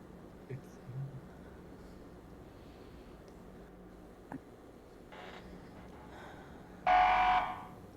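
An alarm sounds in the video game Simulacra 3, a short loud buzzing blare near the end after quiet game ambience, with soft talk and small clicks earlier.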